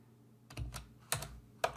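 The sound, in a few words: typing on a computer keyboard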